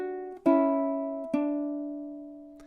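Two plucked ukulele notes of measure 7 of Carol of the Bells, each ringing clearly and decaying slowly, played alone with no talking.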